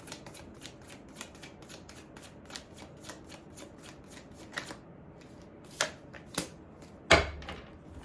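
A deck of tarot cards is shuffled close up in quick, quiet repeated riffles, followed by a few louder snaps and taps of the cards near the end, with no voices.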